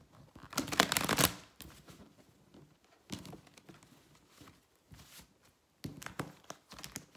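Tarot cards are shuffled close up in several quick riffling bursts, separated by short pauses and softer handling noises.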